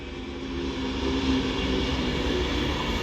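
A Class 390 Pendolino electric train passing through Stafford station, a steady loud rushing roar with a humming tone that swells slightly as it goes by.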